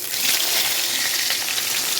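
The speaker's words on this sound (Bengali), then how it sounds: "পেঁয়াজগুলো এরপর লাল লাল করে ভেজে নেবো" Steady, even sizzling of onions frying in hot oil for chicken curry, close and continuous with no voices.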